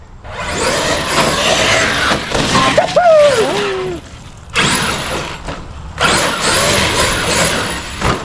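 Arrma Outcast RC car driving and popping wheelies, with a whining electric motor rising and falling in several surges, rattling drivetrain and bursts of tire noise, close by and fairly loud, with brief squeaks.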